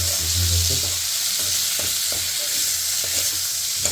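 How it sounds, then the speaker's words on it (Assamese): Potatoes fry in a pan over a lowered gas flame while being stirred, a steady close sizzle broken by repeated scraping strokes of a spoon, with no talk. "আলুখিনি দি গেছটো কমাই থোৱা আছে। এতিয়া মই অলপ ভাজিম।"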